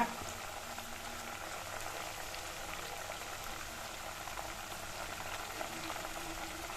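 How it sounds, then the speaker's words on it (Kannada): Ghee heating in a pan as its water content cooks off gives a dense, continuous crackle and bubbling, steady and fairly quiet throughout, with no voices. "ಚಟಪಟ ಚಟಪಟ ಅಂತ ಸೌಂಡ್ ಬರ್ತಾ ಇರುತ್ತೆ ನೀರಿನಂಶ ಎಲ್ಲ ಹೊರಟೋಗುತ್ತೆ"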